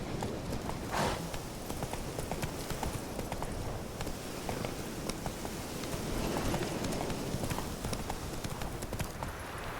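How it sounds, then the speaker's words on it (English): Horse hooves clip-clop steadily on the ground in The Witcher 3 video game, a continuous rhythmic trot lasting the whole stretch, close and fairly loud over a busy game background. "That's it, Roach. Giddy up."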